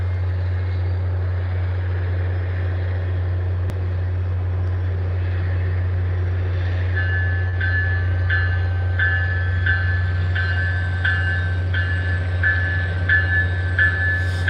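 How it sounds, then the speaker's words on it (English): A steady low rumble of a high-speed corridor train passing nearby, with rhythmic clacking of wheels over rail joints growing more distinct in the second half. "I wanted to see a few high-speed corridor trains first"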